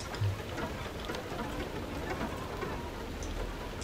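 Hail storm in the video game FAR: Lone Sails, a steady dense patter of hailstones drumming over a low engine rumble, continuous and fairly loud throughout.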